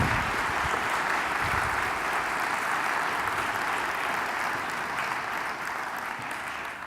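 An audience applauds steadily to welcome a speaker at a college lecture, a dense, even wash of clapping that fades slightly toward the end.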